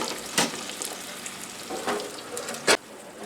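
Atlantic salmon fillet searing on a hot flat top griddle, a continuous close sizzle broken by a few sharp spatula clanks and scrapes against the metal, with no talking.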